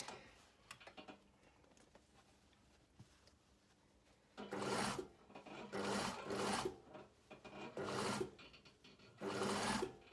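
After several quiet seconds of soft handling noises, a sewing machine stitches a linen blazer seam in four short, close bursts of rasping whir, each stopping briefly before the next.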